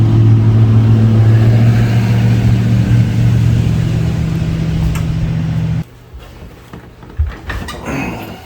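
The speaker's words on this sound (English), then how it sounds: "Let me get a small little drive" A Hemi-engined 2005 Dodge Daytona running with a loud, steady low engine drone for several seconds, then the engine cuts and leaves quieter thumps and rattles.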